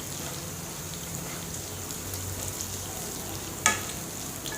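Ingredients for tomato saar fry in hot oil with a soft, even sizzle and crackle that carries on throughout, plus one sharp tap near the end.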